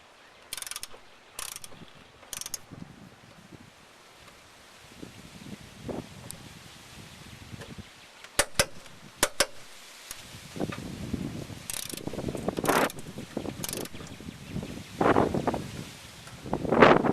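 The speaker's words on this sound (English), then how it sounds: "Got a 3/8 torque wrench, 3/8 extension to get down in there, and a 14 millimeter socket." A 3/8 torque wrench on a 3/8 extension and 14 mm socket tightens the side motor mount of a 2001 Honda Civic LX sedan, producing close, irregular bursts of sharp ratchet clicks separated by quieter pauses.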